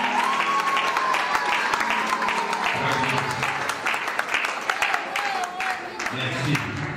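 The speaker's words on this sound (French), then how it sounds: "Vos applaudissements, s'il vous plaît." Guests at a wedding ceremony break into applause, a full, continuous round of clapping from many people heard close, while a voice speaks over it and a few higher calls rise through the noise.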